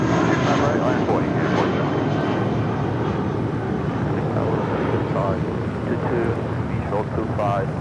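An airliner on takeoff from runway 25 right at LAX, a loud continuous engine roar with wind buffeting, steady throughout, while air traffic control talk runs over it.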